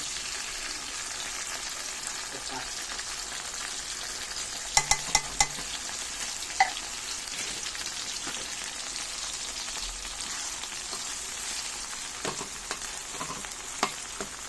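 Sardines being sautéed into a mung bean stew, a continuous hissing sizzle with a few sharp clicks of a spoon against the pan early on and scattered light taps later.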